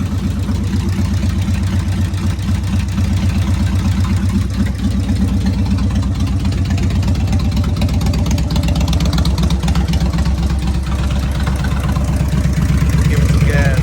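A 1997 Kawasaki Vulcan 1500 fuel-injected motorcycle runs close by with the clutch let out, a steady loud pulsing V-twin throb that holds even throughout and builds slightly at the end.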